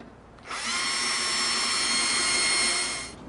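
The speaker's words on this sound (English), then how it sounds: "And then we will begin to drill our pilot holes." A power drill drilling pilot holes in a cabinet door whirs at a steady high pitch for about two and a half seconds, starting and stopping cleanly against a quiet background.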